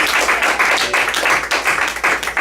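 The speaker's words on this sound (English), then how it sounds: "Give her a round of applause." Continuous audience applause after a woman's CRM software presentation, dense steady clapping filling the room throughout with no talk on top.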